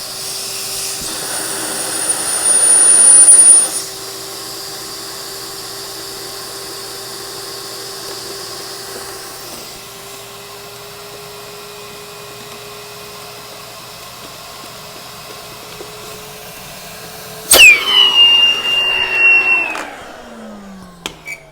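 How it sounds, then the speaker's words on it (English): A vacuum pulls the air out of a Badfish inflatable paddleboard through its open valve, giving a steady droning suction hum with a louder burst early on and sharp rattling surges near the end. "suck the air out with the vacuum"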